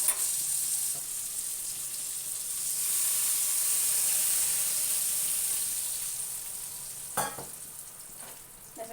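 Water poured over pumpkin frying in a pan for a hilsa fish curry: a soft, steady hiss and sizzle that swells and fades, with a brief sharper burst of bubbling near the end and no talk.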